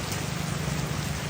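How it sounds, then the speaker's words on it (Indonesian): Heavy rain pours down steadily on a flooded rural spot, a dense, constant hiss loud and close with no voices, a low hum running beneath the downpour. "Ini hujan masih membombardir tempat ini."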